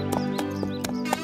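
Hooves of a cartoon horse clip-clop in a steady, even rhythm, setting off on a long round from village to village. The sound is moderately loud and sits over a constant musical drone.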